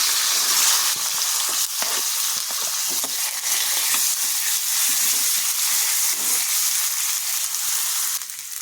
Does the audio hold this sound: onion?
yes